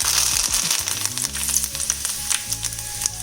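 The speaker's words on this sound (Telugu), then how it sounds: "పోపు వేగనిద్దాం" Curry leaves crackle and sizzle in hot tempering oil with chillies, tomato and onion in a pan, a dense, steady frying hiss with sharp pops throughout, close and loud, no talk.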